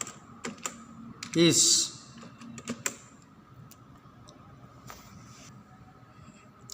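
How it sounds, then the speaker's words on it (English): Keys clatter on a computer keyboard in a burst of irregular close taps, one louder clack standing out, while a person speaks briefly over the typing. "Now I have finished typing from here."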